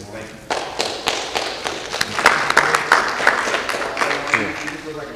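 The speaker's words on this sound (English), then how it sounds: "I want to give you all a round of applause" A small group claps in uneven, scattered bursts at a homeowners' association meeting, fairly close, with some louder individual claps standing out over a few seconds.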